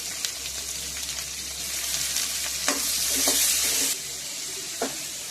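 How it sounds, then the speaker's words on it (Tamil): Onions, tomatoes, green chili and curry leaves sautéing in oil with spices for a spicy Tamil fish curry, a steady close sizzle with a scraping spatula stirring through it several times. "சேர்த்து நல்லா பச்சை வாசனை போக வதக்கி எடுத்துக்கலாம்"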